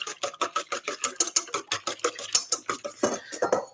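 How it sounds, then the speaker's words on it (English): Eggs whisked quickly in a bowl for simple pancakes, the yolks broken up: a steady, fast run of light clicking, tapping strokes, close and fairly loud, with no talking. "So then what we do is we whisk it up quickly, breaking the yolks"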